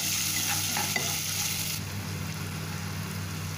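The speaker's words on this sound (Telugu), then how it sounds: "బాగా బ్రౌన్ కలర్ వచ్చే వరకు ఫ్రై చేసుకోవాలండి" Mutton frying with salt and turmeric until brown for a dhaba-style mutton biryani, a dense, steady close sizzle with brief stirring clinks near the start, no voices.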